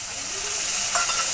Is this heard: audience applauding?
no